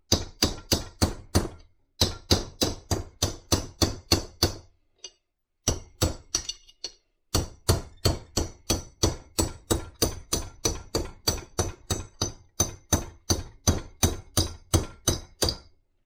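A hammer strikes the outer metal of a Ford F-350 rear brake in rapid, regular blows, loud close clanks in bursts with a few short pauses.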